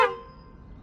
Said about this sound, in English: And honk will honk the horn.